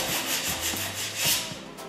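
Dried filler being rubbed down lightly by hand with fingertips while decorating with oil-based paint, a soft continuous close-up rubbing, sanding hiss.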